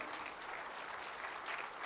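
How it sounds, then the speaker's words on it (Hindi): An audience at an LIC agents' association celebration in Nagpur applauds in a dense, even wash of clapping that holds steady throughout, fairly soft and unbroken by speech. "तालियों की गूंज"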